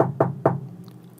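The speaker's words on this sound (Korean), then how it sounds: "갑자기 방문을 두드리는" Three sharp knocks on a room door at home, evenly spaced and close by, with a short hollow ring after each one and no voices.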